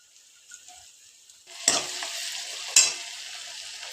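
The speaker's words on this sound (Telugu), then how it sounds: "ఆనియన్స్ వేసి కొంచెం రెడ్గా వరకు ఫ్రై చేసుకోవాలన్నమాట. ఇది ఇలా ఫ్రై అవుతుంది." Onions sizzle in a hot pan for a mushroom curry, a quiet hiss that swells as a spoon stirs and scrapes twice, the frying continuing steadily between strokes.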